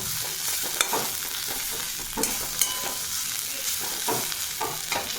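Banana stem (thor) fries in a pan with a constant close sizzle, broken by repeated scraping stirs and a few louder clanks of the utensil against the pan.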